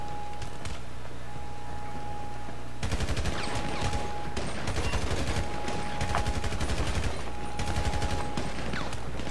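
Bursts of automatic gunfire from a Grand Theft Auto V heist at Humane Labs: a quiet hum first, then dense rapid volleys with short pauses between them, loud and punchy.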